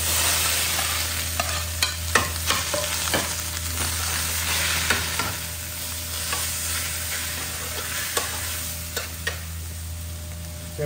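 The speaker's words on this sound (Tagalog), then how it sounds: "Ayun guys, lagay ko na tong sisig natin." Sisig fries in melted butter in a pan, a constant close sizzle punctuated by repeated stirring scrapes and clicks of a utensil against the pan over several seconds, with no voices.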